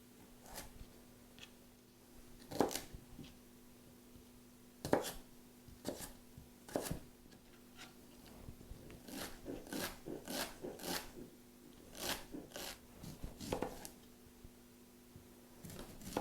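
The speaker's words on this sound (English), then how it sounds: "So I want to make them a small dice to make sure that they're done." Knife chopping carrots into small dice on a cutting board: irregular bursts of sharp taps, some isolated and some in quick runs, close and moderately loud with quiet gaps between.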